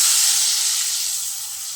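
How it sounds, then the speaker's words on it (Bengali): Water poured into a pan of hot curry sets off a loud, hissing burst of steam and sizzle, strongest at the start and easing off slightly over under two seconds. "এবার আমি জল দিয়ে দেবো"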